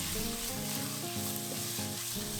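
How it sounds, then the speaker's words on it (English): Chicken sizzles steadily in a hot pot, a continuous crackling fry with light stirring, set against background music. "keep stir frying the chicken for 1 more minute"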